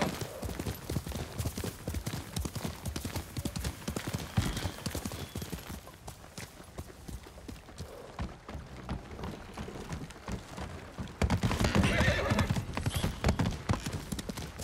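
Horse hooves from the video game Ghost of Tsushima beat a steady clip-clop gallop, loud and close, continuing under dense ambient game sound with a louder burst near the end.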